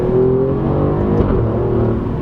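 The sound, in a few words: Alfa Romeo Giulia Quadrifoglio 2.9 V6 engine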